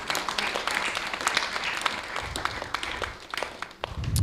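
Temple devotees and community members give steady applause during a live temple program, a continuous crackle of many hands with a low rumble rising near the end.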